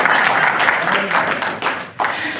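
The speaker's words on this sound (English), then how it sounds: "let's give a round of applause for Seth" Audience applause breaks out for a guest at a Maui public meeting on the governor's tax cut proposal, a dense sustained clatter of many hands that briefly dips near the end before resuming.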